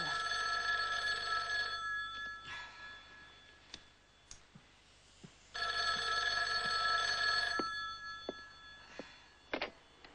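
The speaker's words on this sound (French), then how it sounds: "Le téléphone sonne." An old telephone bell rings in two long bursts, loud and close, with brief clicks and small knocks in the quiet between the rings, in a scene from a 1989 French-dubbed thriller.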